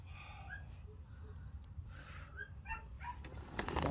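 A dog makes short, close yips and whimpering barks in a few scattered bursts over a low indoor hum.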